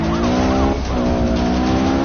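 A Lamborghini racing car in Need for Speed Rivals on PS4, its engine roaring loud and close with pitch sweeping up and down, and tires squealing as it skids.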